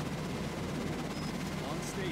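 Sustained rapid gunfire from the strategy game Cepheus Protocol forms a dense, continuous barrage at moderate loudness with no pauses.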